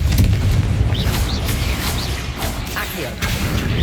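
A Confringo blasting curse in Hogwarts Legacy goes off as a loud, low explosive boom, followed by rumbling crashes and debris noise that fades over a few seconds.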